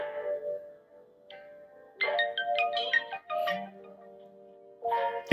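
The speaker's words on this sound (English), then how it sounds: "So anytime somebody texts you, it'll sound like this." A short electronic melody of bright chiming tones, an iPhone text message alert playing twice with a pause between, clear and close with no talking.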